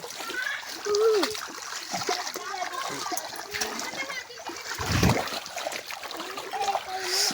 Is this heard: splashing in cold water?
yes